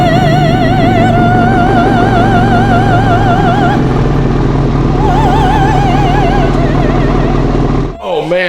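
Tuned BMW M5 V8 heard from behind, the engine running loud and close with a deep rumble and wavering revs that die away near the end.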